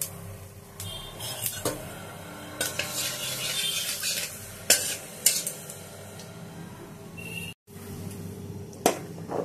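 Drumstick and eggplant fry in a little oil, with a soft sizzle under repeated stirring and scraping of a utensil against the pan, plus a few sharper metallic clinks and one brief dropout.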